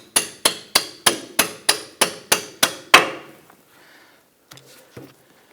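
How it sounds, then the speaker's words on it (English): Hammer tapping out a control arm bolt on a Hummer H3, ten sharp evenly spaced metallic strikes, loud and close, followed by a pause and two faint knocks. "I'm going to use our hammer."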